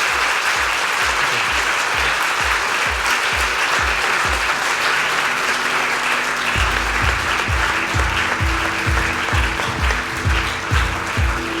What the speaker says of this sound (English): Please give our speaker a warm round of applause.